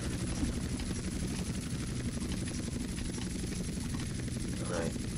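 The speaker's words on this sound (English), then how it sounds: "Let's get in the cargo bob and take off." A Cargobob helicopter in GTA San Andreas takes off, its rotor noise a loud, steady, dense roar that stays constant throughout.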